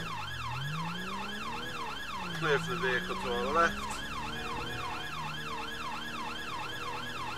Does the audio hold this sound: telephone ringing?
no